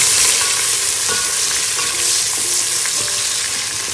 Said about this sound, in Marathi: आता ह्यात मी 1 मोठा कांदा चिरलेला तो घालूया आणि छान परतून घेऊया.